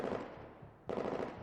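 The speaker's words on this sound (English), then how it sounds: "I vaguely hear the collision of gunfire and metal." Gunfire clattering against metal in the video game Neural Cloud, a dense rattling burst that drops away briefly and then returns at full strength, fairly quiet overall.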